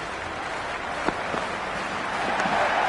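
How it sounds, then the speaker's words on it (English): Cricket crowd at an India vs England match, a broad steady wash of applause and crowd noise that swells slightly toward the end, with a few sharper claps standing out. "The crowd is electric right now."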